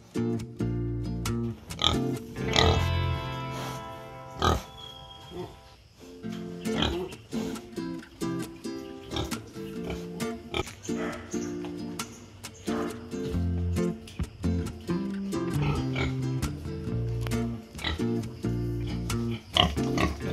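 A boar grunts in a temporary pen on a pig farm, with repeated low, close grunts and snorts in irregular bursts throughout, loud and fairly continuous, with no talk over them.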